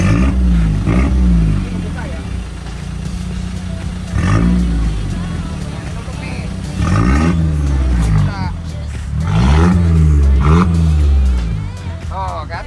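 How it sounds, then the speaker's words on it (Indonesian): A car exhaust fitted with twin WRD mufflers revs repeatedly nearby, deep rising-and-falling roars in several bursts with a rumbling idle between, while people talk over it. "Nah ini dua muffler, jadi kontrol suaranya antara kanan dan kiri itu berbeda."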